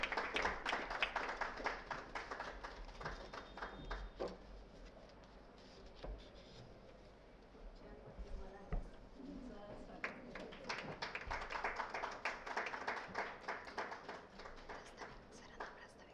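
An audience at a ceremony organised by Janmangal Parivar and Lokvrat Prakashan applauds to welcome an invited guest doctor. The clapping is faint and distant, in two stretches with a quieter lull between them.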